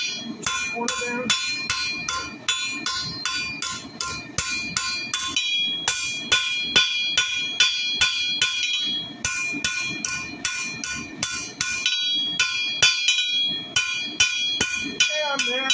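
A hammer strikes a hot steel leaf on an anvil in rapid, ringing blows, loud and close, keeping a steady rhythm with brief pauses between runs.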